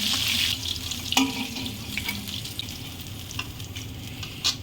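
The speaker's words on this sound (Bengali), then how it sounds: "এপাশ ওপাশ সুন্দর করে লাল লাল করে মাছটা ভেজে নিয়েছি" Tilapia fish fries in hot oil in a pan, giving a steady close sizzle with occasional sharper spits and crackles, and no talk over it.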